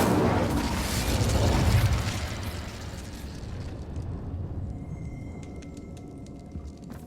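An Incendio fire spell in Hogwarts Legacy erupts with a broad whooshing, rumbling burst that swells over the first two seconds, then fades into a lower crackling roar with faint clicks.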